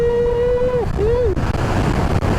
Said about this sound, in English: that wind resistance is insane